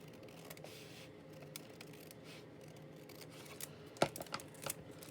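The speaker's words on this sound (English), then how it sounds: "I want to cut this excess piece off here" Scissors trimming an excess piece off a handmade card pocket, a few sharp snips clustered near the end over a quiet room hiss.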